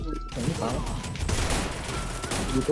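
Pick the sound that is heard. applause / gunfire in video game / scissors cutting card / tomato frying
gunfire in video game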